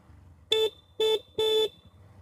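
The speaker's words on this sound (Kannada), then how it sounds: "ಮಧ್ಯೆ ಮಧ್ಯೆ ಹಾರ್ನ್ ಮಾಡ್ತಾ ಹೋಗ್ಬೇಕಾಗಿರುತ್ತೆ." A car horn sounds three short honks, the last held slightly longer, close and loud, from a vehicle driving a narrow road through dense forest.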